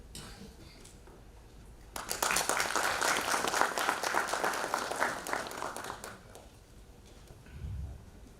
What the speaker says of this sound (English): Please give a big round of applause for Mr. Shivendra